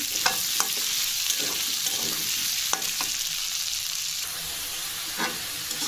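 Spice paste frying in a large wok for khichuri, giving a steady loud sizzle and hiss with intermittent scraping stirs of a spatula, close up and without talk.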